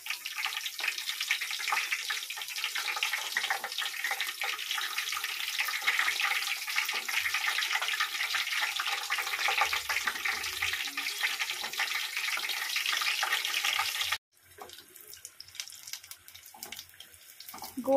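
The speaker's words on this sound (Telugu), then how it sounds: "ఒక 4-5 వేసుకుంటేనే మనకు అవి బాగా ఫ్రై అవుతాయి ఆయిల్లో" Mirchi bajji, chili fritters, frying in hot oil give a steady, dense sizzle that runs unbroken for about fourteen seconds, then drops away to quieter clinks and faint hiss.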